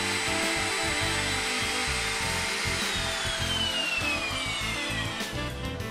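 A router with a straight bit mills out the block cavity of an exotic-shaped guitar body to a 9/16-inch depth. The loud, steady whine of the cutting runs throughout, with no talk.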